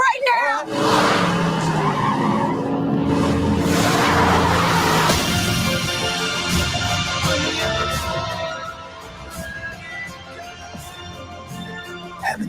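A car skids and squeals its tires as it pulls away, a loud, sustained roar with screeching that fades and drops after about eight seconds, with voices mixed in.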